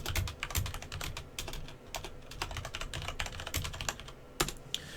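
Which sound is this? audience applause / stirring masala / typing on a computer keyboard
typing on a computer keyboard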